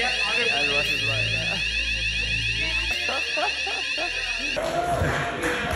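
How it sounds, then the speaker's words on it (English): A building's fire alarm sounds continuously with a loud, pulsing electronic tone over crowd chatter, and people talk nearby throughout. "There's a fire alarm going off."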